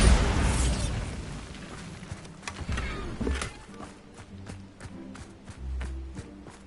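Bombarda spell blast in Hogwarts Legacy: a loud burst at the start decaying into rumble, followed by scattered sharp crackles, debris clatter and footsteps.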